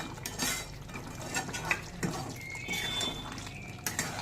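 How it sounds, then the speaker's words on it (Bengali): Mutton kasha being stirred in a pot, Golbari-style Kolkata braise, with a spoon scraping and clinking against the metal in repeated strokes, close and moderately loud over a faint simmer. "কিছুক্ষণ পর আবার একটু নেড়ে নিচ্ছি"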